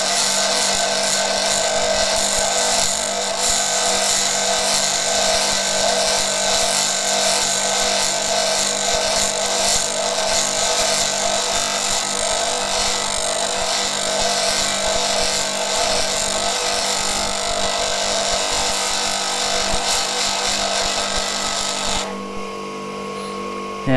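A bench grinder whines steadily for more than twenty seconds as a blade is leaned against the wheel and sharpened. The noise is loud, continuous and close up, with no talking over it.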